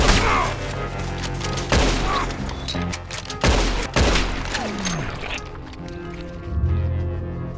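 Carbine gunfire in the western video game Red Dead Redemption 2, several loud sharp shots spaced a second or two apart with echoing tails, followed by quieter scuffling and a brief shout.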